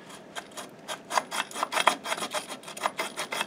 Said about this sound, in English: we're going to polish these mating surfaces to prevent chatter. So I've got the sandpaper now on the faces,